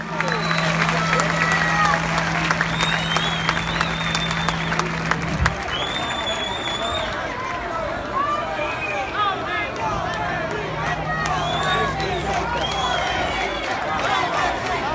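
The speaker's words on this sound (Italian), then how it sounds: "facciamo un grosso applauso a coloro che ci guardano da lassù" An outdoor crowd at a neolomelodic concert in Palermo's CEP Michelangelo district applauds and cheers through a noisy, sustained wash of sound, with whistles and shouts over it and a steady low hum that cuts out midway.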